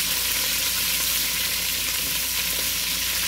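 Lamb sizzles and fries steadily in a pan with sauce for a spicy tomato lamb stew, a dense, continuous hiss close to the mic with no talking.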